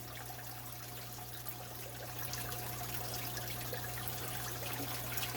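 Cold fresh water runs steadily into a guppy aquarium during a water change, a soft continuous trickle and splash that grows slightly louder partway through, heard alone over a low steady hum.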